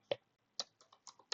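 Keys on a computer keyboard are typed in a short burst of six sharp, crisp clicks at an uneven pace, close and alone with no talk.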